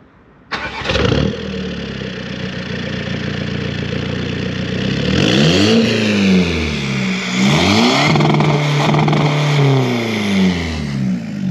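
A Seat Ibiza TDI with a remapped diesel engine cranks and fires up, then settles into a loud, close idle broken by several rising and falling revs.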